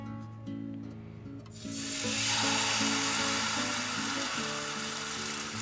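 Oil in a pan for a pancake starts to sizzle partway through and builds into a loud, steady hiss under a background of tonal music, with no talking.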